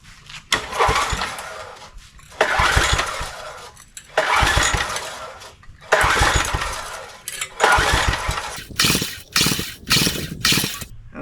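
A tiller's small gasoline engine running off its carburetor is started repeatedly, each attempt a loud close burst of engine noise that sputters and dies, then quicker short bursts toward the end.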